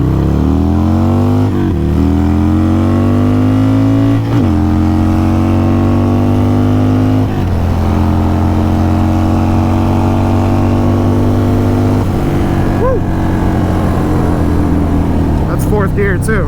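A car pulls hard from a rolling start in first gear at 3,000 RPM, its engine note climbing steadily and dropping at each upshift through about four gears, loud and close throughout.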